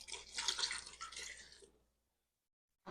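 Cold water pours from a cup into a container in a bright, splashy stream for mustard-making, then stops abruptly into silence before another brief pour begins at the very end.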